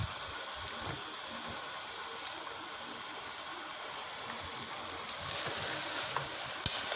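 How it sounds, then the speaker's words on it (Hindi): Chicken with spices, nutmeg, mace and garam masala, sizzles and fries steadily in a pot for haleem, a soft continuous crackle with occasional sharper pops, no voices. "अब मज़ीद इसको 2 से 3 मिनट के लिए भूनेंगे ताकि चिकन का कच्चापन ख़त्म हो जाए।"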